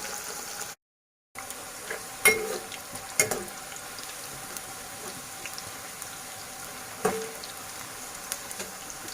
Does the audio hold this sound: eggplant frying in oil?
yes